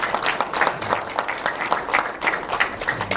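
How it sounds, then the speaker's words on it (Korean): Warm audience applause at a regional economic seminar and talk show in Gumi, dense steady clapping from many hands throughout, moderately near and unbroken. "김영식 총장님께 뜨거운 박수 좀 보내드리면 감사하겠습니다"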